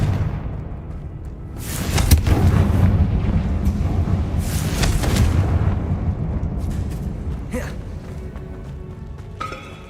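Confringo spell explosions in the Hogwarts Legacy video game, with a couple of heavy, rumbling blasts in the first half, then a sharper burst and lingering crackle over a dense game soundscape.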